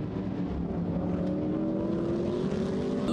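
GT race cars at the Nogaro circuit roar past in a Blancpain Sprint Series race, a sustained engine drone rising in pitch as the cars accelerate, heard at a distance and steady in level.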